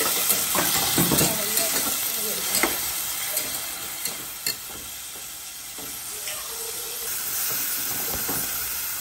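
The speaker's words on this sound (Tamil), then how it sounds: "வெங்காயம் வதங்கிட்டு இந்த தக்காளி கூட போட்டு" Onions and tomatoes sauté in a pan for biryani, giving a steady close sizzle and hiss with occasional stirring scrapes and clinks throughout.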